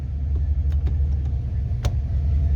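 A car with a 4R70W automatic transmission being shifted into drive, heard as a steady, close low engine rumble at idle with a few soft mechanical clicks.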